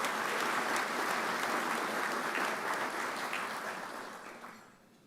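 Audience applause at a business ethics awards ceremony, a steady wash of many hands clapping that holds for several seconds and then tapers off toward the end, with no talk over it.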